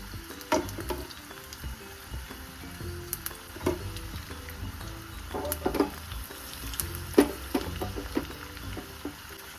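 Garlic and cumin seeds sizzle steadily in hot oil in a pan over a high flame, with frequent sharp spatters and occasional scraping clinks of a spoon, close and fairly loud with no talking.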